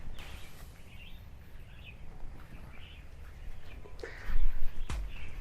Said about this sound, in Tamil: குருவியோட சரணாலயம் இது கண்டிப்பாக இருக்கணும்